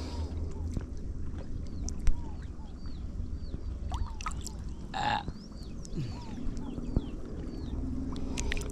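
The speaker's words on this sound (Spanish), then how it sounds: "Un montón de pájaros a la orilla" Many chicks and small birds on a shore peep in quick, repeated chirps, faint and steady over low boat and water noise, with brief talk.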